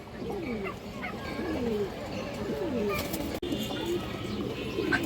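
Flying pigeons kept in a loft for sale coo in repeated rolling phrases close by, with a brief sharp knock midway and faint background noise.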